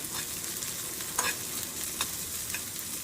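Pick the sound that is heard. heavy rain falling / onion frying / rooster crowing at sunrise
onion frying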